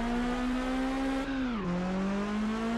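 Car engine in Test Drive Unlimited, a steady loud droning note that dips as the revs drop mid-clip, then holds again.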